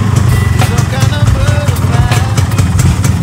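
Yamaha RX King motorcycle, a new 2023 build, idling after starting: a steady close engine putter running for the whole clip while someone talks over it.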